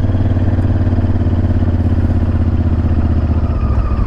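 Group of motorcycles riding together on the road to a motorcycle rally at Kipilovo, with a loud, steady low engine drone and rumble, close by, continuous throughout and without speech.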